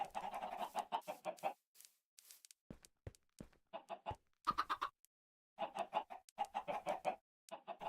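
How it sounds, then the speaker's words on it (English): Minecraft chickens cluck in short, quick bursts, repeated several times with brief silent gaps between them, close and clear with no talking. "so we got at least 3 chickens in there, I think"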